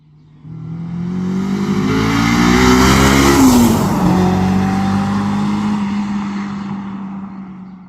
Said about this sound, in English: the original or the stock exhaust sounds a bit muted and a bit restricted